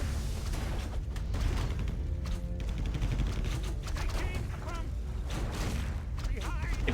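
Big Missile Barrage ability firing in Warcraft 3, a dense fusillade of rapid missile impacts and booms that carries on under an excited commentator's voice.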